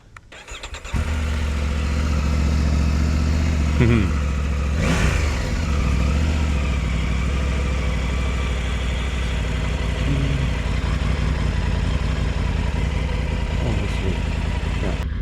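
A motorcycle engine cranks and catches, then settles into a steady, loud idle with a few brief blips of the throttle, close by and with no talk over it.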